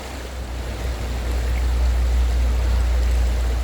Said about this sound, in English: sitting on a mountain stream, I mean, just look at this water